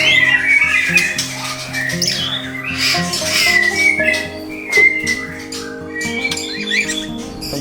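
A magpie robin (murai) songbird at a bird farm sings loud and close, a long run of varied whistles, squawks and chirps over steady background hum.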